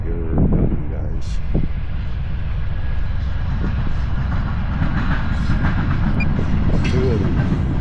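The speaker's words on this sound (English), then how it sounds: "Yeah, I hear a train coming." A train rolls past outdoors, a loud steady rumble with rail clatter filling the clip, overlaid by wind buffeting and some faint voices.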